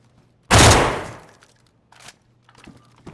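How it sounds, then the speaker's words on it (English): A single loud gunshot from the player's own gun in DayZ, a sharp crack with a long decaying tail, followed by a couple of faint distant shots or knocks. "That was me shooting."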